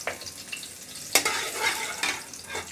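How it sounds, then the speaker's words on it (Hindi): Cumin seeds fry in the oil left from frying taro, giving a close sizzle broken by sharp scrapes of a spoon against the pan. "अब इसी ऑयल के अंदर मैं ज़ीरा शामिल करूँगी"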